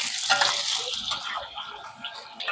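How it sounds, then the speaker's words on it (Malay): Potatoes fry in hot oil in a home kitchen, giving a soft, continuous sizzle and crackle with faint stirring clatter, close and fairly quiet. "Mak nak goreng kentang pula ya."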